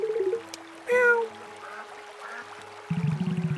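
A duck in a video game gives a short, nasal honk amid soft electronic tones, followed by a burst of rapid, pulsing sounds near the end.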